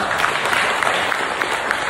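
A crowd at a public gathering with the agriculture minister applauds students: a short burst of dense, steady clapping, loud and close throughout.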